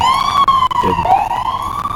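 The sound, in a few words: ambulance siren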